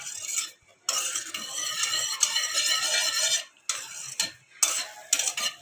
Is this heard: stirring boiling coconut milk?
yes